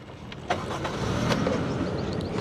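A car engine starts with a brief whirring crank, then settles into a steady close idle hum; no braking sound stands out and nobody talks.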